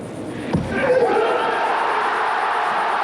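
Korean spectators in the arena at the 1988 Seoul Olympic men's 52kg weightlifting erupt in a loud sustained roar and cheering after a thud from the platform, the crowd noise swelling and holding steady.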